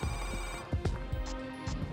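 A telephone rings in a restaurant setting, a steady electronic ring tone with repeating tonal bursts heard mid-distance over room ambience.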